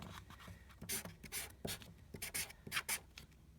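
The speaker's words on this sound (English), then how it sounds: "I am going to write" A pen or marker writes on paper up close, making quiet, irregular scratchy strokes in short bursts, with no voices.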